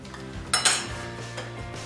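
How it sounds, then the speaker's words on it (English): Plates are handled to serve slices of salmon pie, with a couple of distinct ceramic clinks and knocks followed by softer scrapes, close and fairly quiet, with no talking. "So let me grab a couple of plates"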